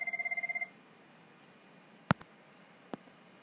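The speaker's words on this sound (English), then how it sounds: "Excuse me, there's a phone ringing." A telephone rings with a short electronic double tone lasting about half a second at the start, followed by near silence and a couple of faint clicks.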